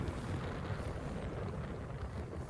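Strong storm wind blowing at sea along a fishing coast, a steady, loud roaring rush with low buffeting on the microphone throughout, no voices.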